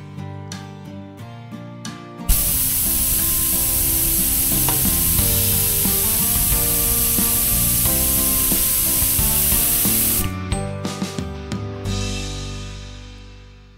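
Hissing spray-can burst under a layered musical bed for a logo animation, a loud steady spray running for about eight seconds with music before and after.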